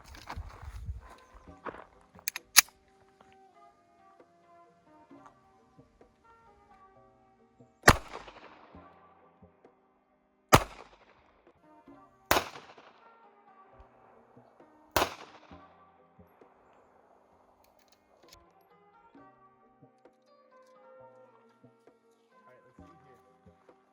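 Gunshots hit a 3A+ ballistic helmet in a series of loud, sharp cracks, four spaced single shots after a few quicker early bangs, each ringing out with a short decay, with quieter shuffling between.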